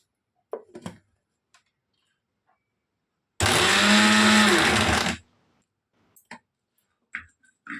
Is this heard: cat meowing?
no